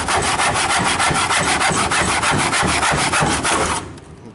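A hand saw cuts through wood with a fast, steady back-and-forth rasp, loud and close, ending abruptly.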